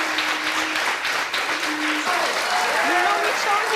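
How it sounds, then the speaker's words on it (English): A studio audience at a daytime talk show bursts into dense, steady applause, loud and continuous throughout, with scattered cheers and voices mixed into the clapping. "She getting all these claps."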